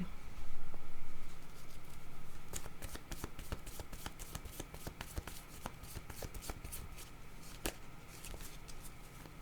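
Tarot cards being shuffled by hand, starting with a soft sliding rustle and then turning into a long run of quick, crisp card flicks and taps, close and clear with no talking.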